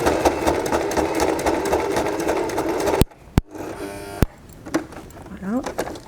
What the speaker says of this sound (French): sur ma machine à coudre pour faire des coutures un peu plus résistantes